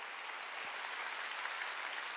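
A church congregation at a Sunday worship service breaks into applause, a dense, even wash of clapping heard from a distance and held at a constant moderate level for a couple of seconds.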